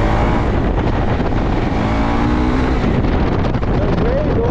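A KTM 390 Adventure motorcycle fitted with an Akrapovic exhaust accelerates, its loud, close engine note rising in pitch over heavy wind rush, with a rider's voice partly audible.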